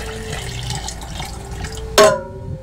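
Water poured into a container for bread dough, a steady continuous trickle that ends in a sharp splash or clunk near the end, close and fairly loud with no talk.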